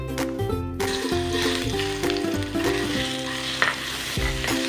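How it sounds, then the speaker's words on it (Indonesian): A ground spice paste with garlic and pepper sautés in a pan, a continuous sizzle and crackle with stirring scrapes, heard under steady background music. "Kemudian kita tumis dulu bumbu halusnya."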